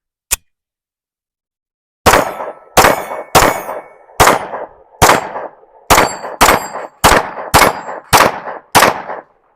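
Shots from a gun fitted with a Viridian RFX 35 sight: one sharp report, a two-second pause, then about a dozen loud, ringing shots in a steady, quick rhythm.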